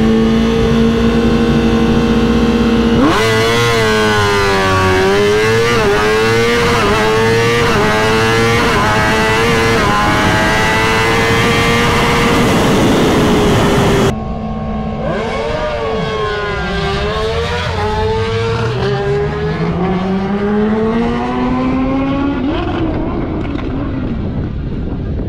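Drag racing motorcycle launching hard from about 7,000 RPM, its loud engine note climbing through repeated rising shifts, then continuing more distantly with another long rising pull and steady wind noise.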